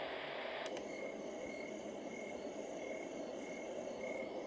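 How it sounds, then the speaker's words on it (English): Summer night setting on a bedside sound machine, with faint frog and cricket chirps over a soft steady hiss and a click as the setting changes near the start. "Summer night."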